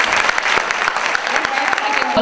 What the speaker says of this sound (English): let's give our second graders a huge round of applause